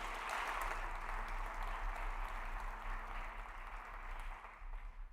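A church congregation applauds for a pastor's team, a fairly quiet, continuous patter of clapping heard from a distance over a low steady hum, trailing off toward the end.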